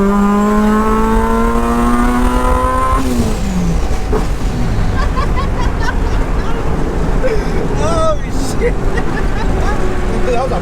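A supercharged 1993 Honda Civic Si EG accelerates hard, its engine rising in pitch, dropping at a gear change and climbing again under loud road and wind roar, with people talking inside the car.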